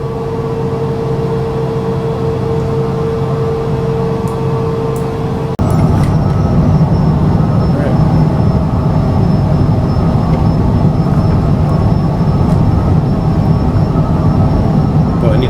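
A Cessna light airplane's engine drones steadily from inside the cabin as it readies for departure on runway 31. The loud, even rumble steps up in power about a third of the way through, with no talking.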